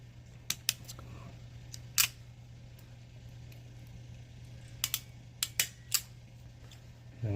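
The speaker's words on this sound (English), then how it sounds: "Then you want to grab your cutters. Cut them straight." Wire cutters snip through the wires of a CAT6 network cable: a handful of sharp, close clicks in two small clusters over a steady low hum.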